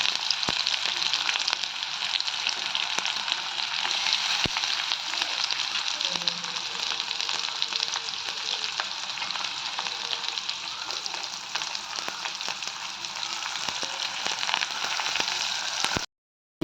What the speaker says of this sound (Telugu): ఉల్లిపాయలు బ్రౌన్గా వేగనివ్వాలి